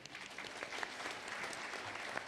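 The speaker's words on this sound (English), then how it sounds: "We can give a little round of applause there." Audience applause at a housing conference panel, a steady patter of clapping from a crowd, heard fairly faintly and alone for a couple of seconds.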